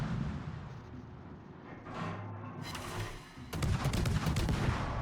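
Naval gun salvos and shell impacts boom in a World of Warships battle, with a burst of rapid cracking volleys toward the end over a low rumbling background.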